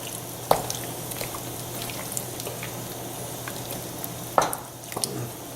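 Roast peanuts are stirred into a pot of simmering kung pao chicken: two faint, isolated spoon clinks against the pot, separated by several seconds, over a steady low kitchen hum.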